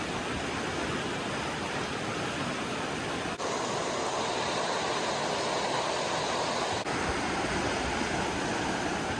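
Rushing water roars steadily and close, a broad continuous wash of the Athabasca River flowing at Fifth Bridge near Lake Louise, Banff, with no voices over it.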